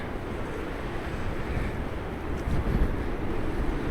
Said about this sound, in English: it's so windy here, I get blown in.